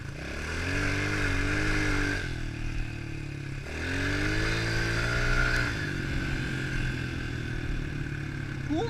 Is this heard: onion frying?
no